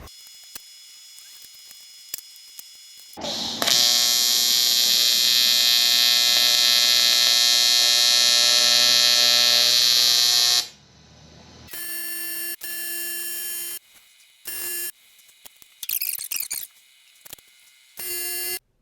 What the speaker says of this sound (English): we were TIG welding aluminum with our Chinese-built Art Captain AC/DC TIG welder